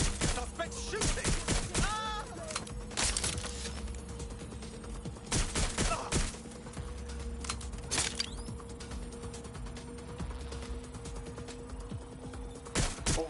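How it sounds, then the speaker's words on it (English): Gunfire in the video game Watch Dogs, sharp shots scattered among mechanical clanks and rattles during a chaotic scene, with voices speaking in the background. "Suspect shooting!"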